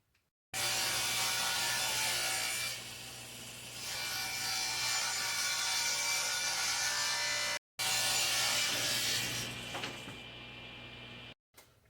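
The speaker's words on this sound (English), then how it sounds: "So I'm going to rip this piece of plywood here." A saw rips a sheet of plywood into 2-inch strips for a wooden Christmas sled, a loud steady cutting roar running through two long passes with a brief pause between them and no talking.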